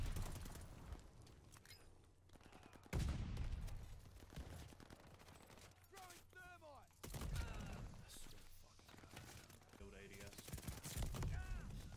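Gunfire in the Call of Duty Vanguard Shipment map, with bursts of shots and impacts scattered through a busy, mid-loud multiplayer mix and someone talking over parts of it.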